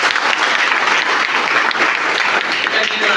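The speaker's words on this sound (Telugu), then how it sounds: "5 డైరెక్టర్స్ కోసం గట్టిగా బిగ్ క్లాప్స్ మెంటర్స్" A large company gathering breaks into loud, dense applause for its directors, a steady close roar of many clapping hands lasting throughout.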